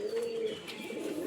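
Pigeons kept by a pigeon fancier coo softly in a steady low murmur, with a faint chirp or two over light background noise.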